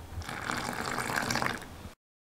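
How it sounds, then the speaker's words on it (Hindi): Water is poured from a vessel onto ghee-mixed multigrain atta flour in a bowl for taco dough, a steady splashing trickle lasting about two seconds before stopping abruptly. "तब आप इसमें पानी ऐड करेंगे।"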